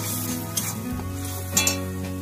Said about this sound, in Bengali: এই মশলাটাকে খানিকক্ষণ কষিয়ে দেবো।